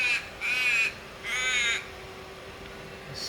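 A crow gives two drawn-out, raspy caws close by, each about half a second long, over a low steady background hum.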